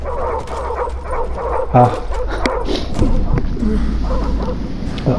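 A wild dog in the video game Call of Duty Modern Warfare gives a few barks and yips over steady low game noise, with a brief spoken exclamation.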